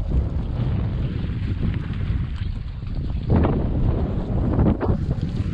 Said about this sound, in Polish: No ale za to wieje.